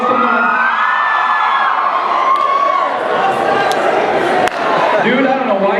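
A school audience answers a youth speaker with loud, sustained cheering and screaming, a dense crowd roar with whoops and shrieks filling the room and no pause.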